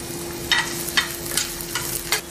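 Onion and green chili stirred and frying in a pan, a steady soft sizzle broken by about five brief scraping stirs, close and moderately loud with no talk.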